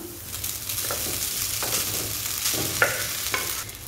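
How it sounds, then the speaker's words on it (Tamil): Black gram (karuppu ulunthu) mixture lightly sautéing in a pan before cooked rice is added: a soft, steady sizzle broken by occasional spoon scrapes and taps, close by, with no talking. "அதனால் சாதம் சேர்க்குறதுக்கு முன்னே இந்த மாதிரி லைட்டாக வதக்கிக்கோங்க"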